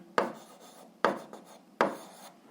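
Three brisk scratching strokes of a pen or chalk rub against a writing surface while an algebra solution is written out, each starting sharply and fading, spaced about a second apart and heard close.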